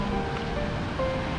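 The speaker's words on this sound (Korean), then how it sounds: "파도 치는 거 봐." Surf breaks and washes along the Jeju coastline in a steady, broadband roar with a faint wind rush, near and continuous for the whole moment with no voices.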